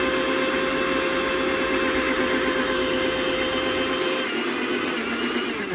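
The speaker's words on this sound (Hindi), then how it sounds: "तो चलिए ग्राइंड करते हुए वीडियो देखिए।" A Suruchi Icon 800-watt mixer grinder grinds coconut into chutney with a loud, constant whirring roar that holds steady from start to finish, with no talking.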